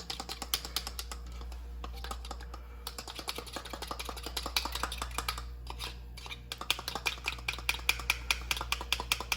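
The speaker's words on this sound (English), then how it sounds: "I'll agitate the eggs again." Beaten eggs agitated in a pan for a French omelet: quick, steady clicking and tapping of a utensil against the pan keeps going for several seconds over a low hum.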